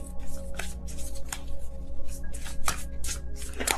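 A deck of tarot cards is shuffled by hand close up, a steady stream of soft riffling, flicking and tapping bursts, with no voice over it.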